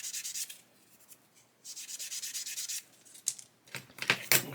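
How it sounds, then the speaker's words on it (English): Sandpaper, 400 grit, rubbing Mr. Surfacer primer back to bare plastic on a 1/48 Airfix Sea King model kit, in several short bursts of close, scratchy strokes with brief pauses between them. "so just sand that out and then blend it with a sponge"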